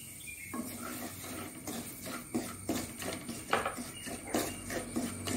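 Semolina (rava) stirred and roasted in ghee in a pan for rava laddu: a string of irregular, close scraping clicks and knocks over a faint sizzle, with no voices.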